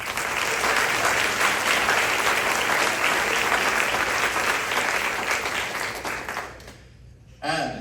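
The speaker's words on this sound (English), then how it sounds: "Please give them a round of applause." Sustained audience applause fills an awards ceremony hall, a dense, even clatter of many hands that holds steady before fading out near the end, followed by a brief burst of sound.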